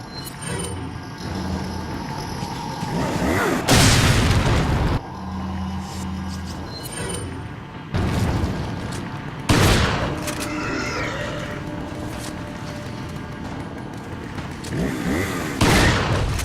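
Loud explosive blasts from grenades and a shotgun in Resident Evil 4, several heavy booms spaced a few seconds apart over a rumbling game soundscape, with no talking.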